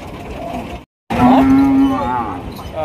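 At Rajshahi City Haat cattle market, a bullock lets out one loud, close, drawn-out moo after a brief silence, over a busy murmur of the crowd.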